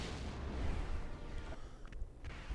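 A torpedo launch in Star Wars: Rogue Squadron II, a heavy booming blast that rumbles loudly at first and then fades away, with a few faint tones toward the end.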